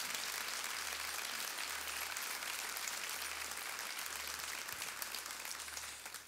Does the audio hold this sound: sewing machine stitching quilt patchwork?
no